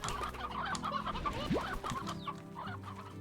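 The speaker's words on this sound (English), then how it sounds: "Rooster." Rooster clucking in the video game Slime Rancher, a run of short busy clucks and chatter at steady moderate loudness throughout, with several fowl calling over one another amid game sounds.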